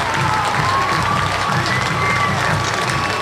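A home crowd at a high school football game cheers and shouts as the Wildcats team runs out, a steady roar of many voices with no breaks, heard from within the stands.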